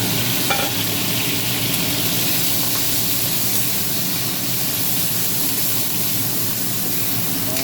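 Tomatoes sizzle loudly in a frying pan while being stirred, a dense, continuous frying hiss with soft stirring motions underneath, close and steady throughout.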